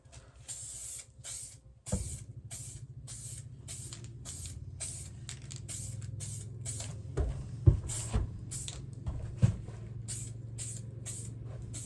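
An aerosol spray can lays a light first coat of paint on fog lights for a 2007-2013 Chevrolet Silverado 1500, hissing in a long series of short, regular bursts over a low steady hum.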